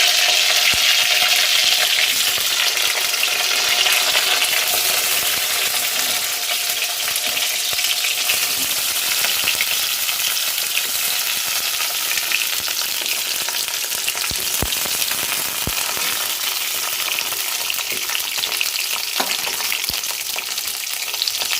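Eggplant slices frying in a pan of hot oil, lightly coated with sugar, giving a steady, close sizzle that runs the whole way through with no talking.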